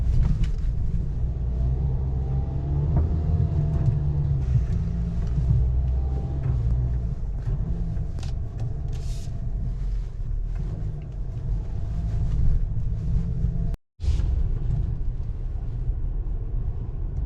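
A Ford Maverick pickup in regular drive mode pushes through a deep sandy off-road stretch in a pine forest, its engine giving a steady low rumble with a brief dropout near the end and no talk.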